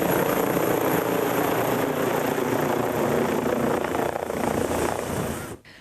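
A SUEM 118 emergency helicopter flies over the Veneto region, its rotor and engine roaring loud and steady throughout before cutting off abruptly at the end.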